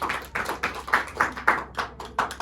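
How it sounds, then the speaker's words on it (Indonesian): A small group claps in quick, uneven bursts, a brief round of applause with no voices over it. "beri tepuk tangan Mbak Ira"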